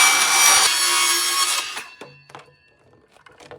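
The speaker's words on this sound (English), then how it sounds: "I figured I'm just going to cut this bucket in half" A saw cuts through a bucket to split it in half, giving a loud, steady rasping stroke that stops abruptly, followed by a few light knocks and thunks.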